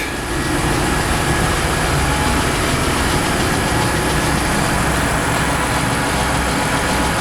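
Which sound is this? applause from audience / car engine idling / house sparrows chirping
car engine idling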